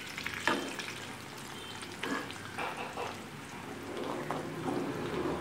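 Sliced shallots and curry leaves fry in coconut oil while a herbal hair oil is being made. The oil gives a constant crackling sizzle, with a few sharper pops and stirring clinks, close and without voices.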